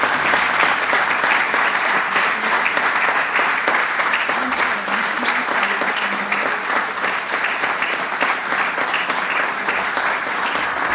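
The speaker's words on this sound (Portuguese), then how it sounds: "chamo então a premiada, que é a doutora mestre Ana Sofia Saraiva Martinho, para quem eu peço um aplauso" Sustained, dense applause fills the hall at a medical school graduation ceremony, loud and even throughout with no break, a large crowd clapping steadily while an awardee is called up.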